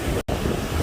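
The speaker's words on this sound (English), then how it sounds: "it's getting windy" Wind buffets the microphone in a steady, loud roar on a Marco Island, Florida beach at sunset, briefly cutting out for a moment before the gusty rush resumes.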